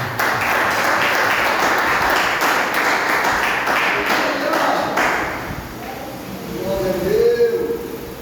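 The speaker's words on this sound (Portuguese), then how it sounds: "As palmas de Jesus." Congregation clapping in a Portuguese-language church service, a broad burst of hand claps that thins out midway, followed by faint tonal sounds near the end.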